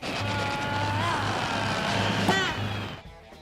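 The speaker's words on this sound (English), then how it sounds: "SpongeBob's bed turns into a car, he revs off into the distance, and it looks like we're gonna race" SpongeBob's bed turned into a car in a SpongeBob video game, revving with a rising whine and a sharp swooping accent before fading off, over a buzzy game soundtrack.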